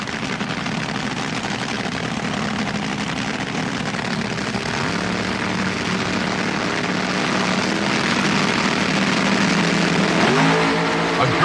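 Two 2,000-horsepower drag race cars, one of them the Candies and Hughes car, launch at the 1977 Gatornationals with a dense, loud engine roar that holds and builds, a rising pitch sweep surfacing near the end.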